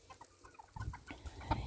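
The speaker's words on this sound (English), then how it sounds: "because he is the top rooster." A silkie rooster clucks in a series of short, soft, close calls over farmyard background, growing a little louder toward the end.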